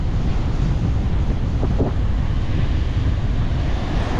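Steady roar of wind and surf at the shore in Bucana, a constant broadband wash with heavy low rumble, no voices.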